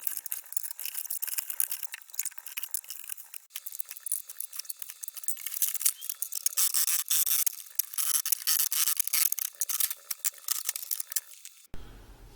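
Wooden shipping crate of an MRP600H petrol-engine motorized wheelbarrow being taken apart, giving a steady run of close, crisp clattering, scraping and light knocking with no voices.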